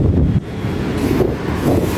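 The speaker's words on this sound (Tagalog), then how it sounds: "Sarap ng hangin." Strong wind buffets the microphone high up on an eighth-floor balcony overlooking E. Rodriguez Sr. Avenue, a loud, steady rushing roar that barely lets up from start to finish.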